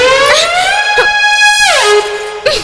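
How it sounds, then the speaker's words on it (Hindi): A loud vehicle horn, heard in a Bhojpuri film scene, blares in long sustained harmonic blasts, with one pitch drop near the end and a short final toot. "इतना तेजी से हम हॉर्न बजा रही हूँ"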